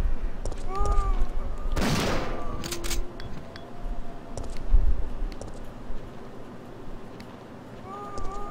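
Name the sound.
shotgun blasts in a video game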